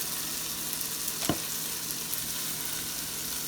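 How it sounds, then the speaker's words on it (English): A large steak seasoned with season salt, ground cumin and salt sizzles steadily in a hot pan, a constant close frying hiss with one brief sharper crackle partway through. "that's a pretty big steak, so I'm going to have to let it cook for a minute"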